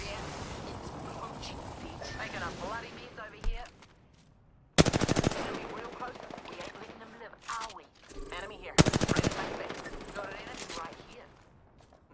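Gunfire in Apex Legends, with two loud bursts of rapid automatic fire and scattered shots between them, mixed with game effects and someone talking over it.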